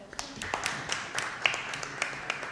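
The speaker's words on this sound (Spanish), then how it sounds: "Un aplauso." Brief applause from a small audience after a presentation at a municipal mobility committee meeting, scattered hand claps rising over room noise with light voices mixed in.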